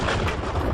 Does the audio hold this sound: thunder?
no